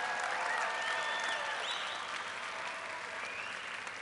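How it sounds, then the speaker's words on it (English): An audience at a Democratic Party event applauds for President Obama, a steady, moderately distant wash of clapping that lasts the whole time without voices. "Give President Obama a big round of applause."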